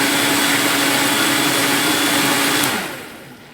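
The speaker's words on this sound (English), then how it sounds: "no matter how much stuff I put in that Vitamix, it just seems to, it's actually an amazing blender" Vitamix blender blending a breakfast smoothie: a loud, steady motor roar with a whining whir, then it winds down and fades near the end.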